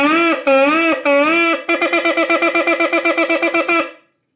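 A shofar blares shevarim and teruah together: three long, wavering blasts, then a quick run of about nine short, staccato toots, loud and close with no talking.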